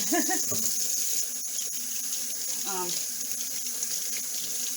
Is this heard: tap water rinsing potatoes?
yes